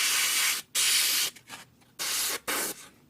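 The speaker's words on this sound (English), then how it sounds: "my Premier airbrush, will be for lacquer-based painting" An airbrush hisses in sustained close bursts while spraying lacquer paint onto a 1/72 model kit, four loud blasts separated by short pauses.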